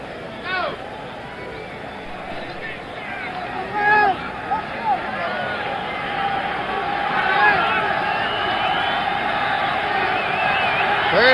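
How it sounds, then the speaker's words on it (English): A 1977 football stadium crowd roars steadily at a Giants–Bengals game, a broad wash of cheering and babble that swells in places while a commentator talks over it. "the crowd is alive"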